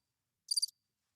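A short burst of cricket chirps from a podcast soundboard effect, a few quick high trills lasting under a second, clean against silence.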